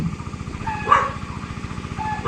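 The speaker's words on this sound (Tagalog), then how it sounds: "Ingay ng aso." A dog barks a couple of times at a distance in a banana plantation, short sharp yaps over a steady rhythmic mechanical hum.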